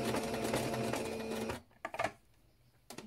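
A sewing machine fitted with a double needle stitches stretch lingerie fabric in a steady, close, fast whirr for about a second and a half, then stops, leaving a few faint clicks and handling sounds.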